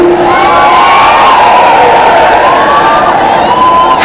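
A huge crowd at a Mayawati political rally in Mainpuri roars and cheers without a break, loud and close, with high shouts and whoops rising above the steady din.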